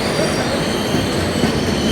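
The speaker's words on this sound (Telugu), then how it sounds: "అరక్కోణం వ్యాప్ 4తో LHBకి వచ్చేసాం మన ట్రైన్కి." A train hauled by an Arakkonam WAP-4 electric locomotive with LHB coaches pulls into Lingampalli platform 2, a close, steady roar of wheels on rails with a high squeal running through it.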